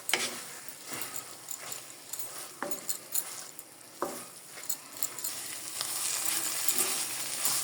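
Raw papaya halwa with khoa being stirred in a pan, a spoon scraping and tapping in scattered strokes over a soft continuous sizzle, close and fairly quiet.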